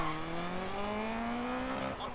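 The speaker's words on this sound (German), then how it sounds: "Da bremse ich lieber mal." A 1970s Opel Kadett GT/E in the DiRT Rally video game, its steady engine note gliding downward as it slows on gravel, sustained and fairly close, with a brief brighter hiss near the end.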